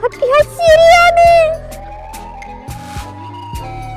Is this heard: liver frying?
no